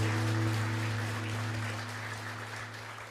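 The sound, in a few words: congregation applause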